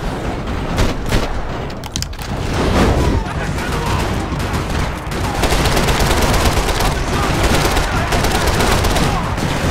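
Dense, sustained gunfire and booming shots from the video game Max Payne 3, with rapid bursts layered into a constant loud firefight and a voice talking over it.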